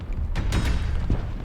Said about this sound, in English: The entire cavern shakes with the sound of rockfall.